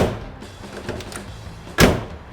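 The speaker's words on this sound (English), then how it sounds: "Close the doors." Doors of a 1972 Oldsmobile 442 convertible shutting, with one solid, close thunk standing out clearly near the end after a stretch of quieter handling noise.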